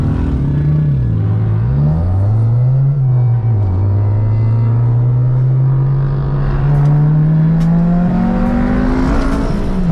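A Honda Integra GSR with a modified exhaust, its engine droning loud and close as revs dip and rise, then climb steadily in a long sustained pull with a rich harmonic rasp.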